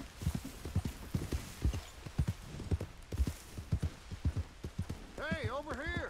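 Horse hooves clip-clopping at a steady riding pace in the video game Red Dead Redemption 2, with a neigh at the end and someone talking over it.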